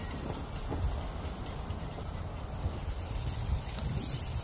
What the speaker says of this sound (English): See how it started to fry up nicely there?